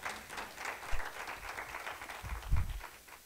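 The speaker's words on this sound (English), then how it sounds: "Now give him a clap offering of praise." A church congregation claps together in praise during a worship service: a steady wash of applause from many hands, fairly close, swelling and thinning over a few seconds with no clear speech.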